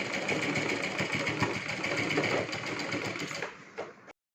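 A sewing machine runs steadily while stitching a lehenga, a continuous close whirring motor hum that holds even for about three seconds, then tapers, gives a short final burst and stops.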